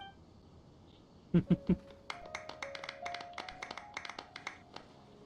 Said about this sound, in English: Let's give our champion Kaveh one last big round of applause